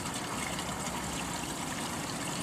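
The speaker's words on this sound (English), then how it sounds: "turn our pump back, valve back on, just get ourselves some water in on top of the mat" Water from a pump pours steadily onto a gold concentrator mat on a Keene Super Black Sand Concentrator, making a continuous, close, even rushing trickle with no pauses or voices.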